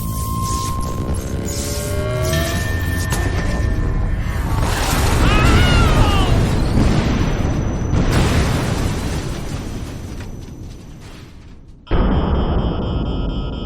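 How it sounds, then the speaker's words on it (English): A heavy explosion roars through a spaceship's torpedo room, a loud sustained rumbling blast with whooshing debris and mechanical clatter, fading before a sharp cut to a steady electronic tone. "Captain, explosion in the torpedo room."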